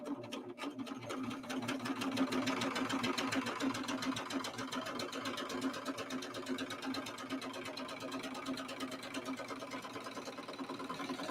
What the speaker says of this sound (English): I'm just going to go ahead and give this a little trim